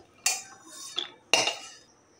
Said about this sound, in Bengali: বাদামগুলো তুলে নিচ্ছি একটা পাত্রে